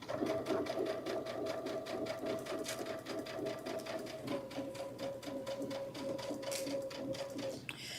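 A sewing machine stitches a box-bottom tote bag with bows in a steady, fast mechanical rhythm. It changes pitch slightly partway through and runs at moderate volume with soft talk in the room.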